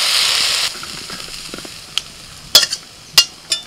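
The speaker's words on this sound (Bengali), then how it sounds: "ঝিঙের গায়ে একটু হালকা ভাজা ভাজা দাগ আছে, ততক্ষণ পর্যন্ত ভাজতে হবে।" Sliced ridge gourd frying in a pan, with a soft steady sizzle that fades after the first second, then a few sharp scraping clicks from stirring close by.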